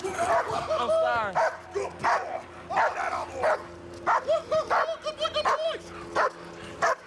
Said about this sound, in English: there's a dog here